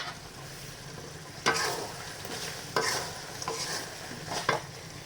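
Mangoes simmering in melting sugar in a pan, stirred now and then: a soft steady sizzle with a few brief scraping stir strokes, close by and with no talk.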